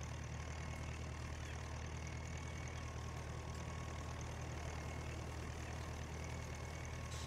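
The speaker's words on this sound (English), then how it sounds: "big tractor with cultivator" A big tractor with a cultivator runs in the farming game Farming Simulator 19, a steady low engine drone at an even, quiet level with no change in rhythm and no talk.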